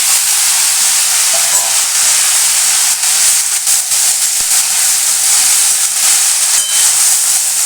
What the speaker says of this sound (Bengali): এর মধ্যে আবার দিয়ে দেবো এখন আমি এই কেটে রাখা কাঁচা টমেটো।